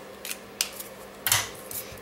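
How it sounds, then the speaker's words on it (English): A handheld spray bottle filled with water gives several quick, crisp spritzes in an uneven rhythm, close and fairly soft, with no talking. "I have a spritzer, and it just has water in it, and I'm just taking, and I'm gonna spray these"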